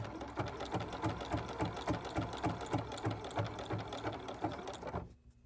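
A sewing machine stitches a zip case made from batik fabric, running steadily with a fast, rhythmic mechanical chatter close by for about five seconds before stopping abruptly, no talking.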